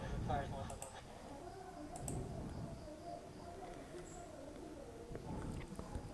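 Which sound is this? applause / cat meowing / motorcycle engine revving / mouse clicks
mouse clicks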